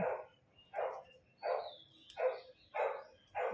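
A neighbourhood dog barks six times at a steady, evenly spaced rhythm, each bark moderately loud and slightly distant against a quiet residential morning background.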